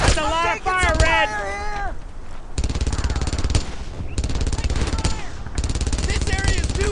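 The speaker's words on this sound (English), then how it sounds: "MG! That's a lot of fire, Red!" Sustained machine gun fire in the Brothers in Arms 2 video game: a loud, rapid, continuous burst that pauses briefly and then resumes, while soldiers shout over it.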